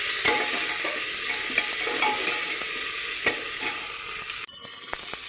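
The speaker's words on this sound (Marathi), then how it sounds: "व्यवस्थित असं सगळं मिश्रण मिक्स करून घ्यायचं" A spoon stirs a masala of fried onion, tomato and beans in a hot pan, with a steady close sizzle throughout and soft scraping strokes at irregular intervals.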